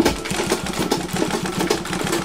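A sewing machine stitches across a shirt placket with a rapid, even, close mechanical chatter that runs continuously throughout.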